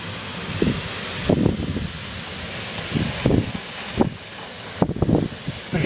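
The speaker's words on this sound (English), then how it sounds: "It's like quit raining, but it's so windy." Strong, gusty wind roaring during a summer thunderstorm after the rain has eased, rising and falling in loud surges with rustling bursts close to the microphone; no talk.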